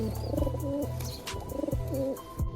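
Several pigeons coo close by after being let out of their enclosure, the new birds' repeated throaty rolling calls arriving in steady overlapping phrases with a few faint chirps between them.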